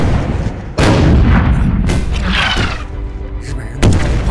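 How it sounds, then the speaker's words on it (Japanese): Artillery battery firing in a war film battle scene: two loud, heavy booms that rumble and fade, with faint voices in between. "日本人炮兵连队开炮"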